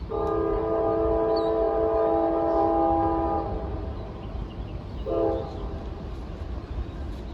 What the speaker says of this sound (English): a train was coming